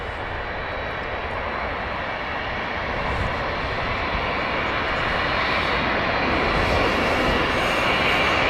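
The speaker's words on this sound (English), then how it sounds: "Touching down, Lufthansa, A320, arriving from Munich" A Lufthansa Airbus A320 arriving from Munich touches down at Manchester Airport, its broad jet roar building steadily louder across the clip with no talking over it.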